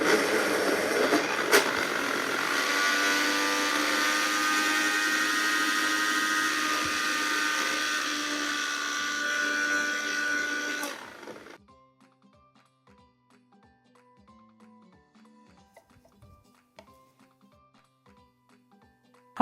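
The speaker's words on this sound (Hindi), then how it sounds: "हमारा पूरन ठीक से पीस चुका है।" A kitchen mixer grinds cooked chana dal filling for puran poli with a loud, steady whirring whine that runs for about eleven seconds and then stops abruptly, leaving faint quiet music behind.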